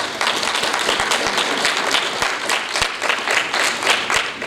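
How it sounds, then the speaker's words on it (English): Steady audience applause in a school program hall, dense clapping sustained throughout at a fairly close distance, honoring student speakers at an MLK event. "Let's give each of these students a round of applause."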